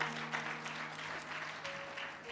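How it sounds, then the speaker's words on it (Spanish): A church congregation at a Spanish-language prophetic service claps in praise, a soft, even wash of many hands applauding steadily with a faint sustained tone beneath it. "Dale un aplauso al Señor bien dado"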